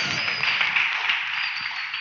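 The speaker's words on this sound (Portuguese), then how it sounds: "Eu queria uma salva de palmas para o Esdras e para o André" A church congregation applauding at a service, a steady, even wash of many hands clapping together throughout, fairly loud and without pause.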